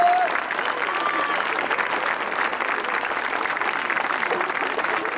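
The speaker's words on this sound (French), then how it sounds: "Je suis persuadé que vos applaudissements vont être à la hauteur de la performance." Sustained applause for French show-jumping rider Nina Malvé at an equestrian grand prix award ceremony, a steady dense wash of clapping from the crowd lasting throughout at even loudness.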